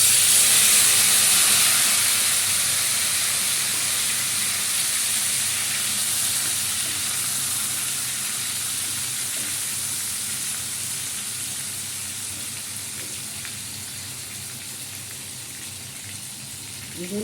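Potatoes go into hot oil in a pan with chilli and bay leaf, giving a loud, steady sizzling hiss that is strongest at the start and then eases off a little while frying continues.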